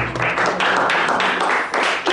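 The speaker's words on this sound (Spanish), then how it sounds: "Pido un aplauso para nuestra presidenta." Dense, loud clapping from a crowd celebrating a newly elected female president, sustained and close throughout without a break.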